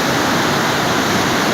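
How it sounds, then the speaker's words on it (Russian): The Kolvitsa waterfall on the Kolvitsa river roars in a steady, loud, dense rush of falling water, constant and close with no pauses or voices. "Это Колвицкий водопад."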